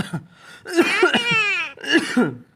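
A hill Alexandrine parakeet, a pet bird, imitates a human cough with three or four close, rasping, throaty bursts separated by short pauses.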